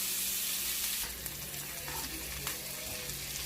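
Flounder fillets, skin peeled off, fry in butter in a pan, giving a steady continuous sizzle with faint scattered pops and a brief stir, heard alone without talk.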